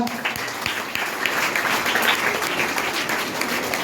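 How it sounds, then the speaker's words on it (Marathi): Sustained clapping from a crowd of schoolchildren and staff at a school cabinet oath ceremony, full and even, with a few sharper nearby claps standing out early on. "जोरात टाळ्या होऊ द्या"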